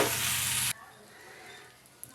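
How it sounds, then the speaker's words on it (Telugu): Prawns fried with salt, turmeric and masala paste hiss loudly in a close pan for under a second, then the sizzle drops to a quiet simmer with one small knock near the end. "ఇప్పుడు దీనిలో ఉప్పు, పసుపు, మసాలా పేస్ట్ కూడా వేసేసుకుందాం. మసాలాలన్నీ బాగా కలుపుకోవాలి."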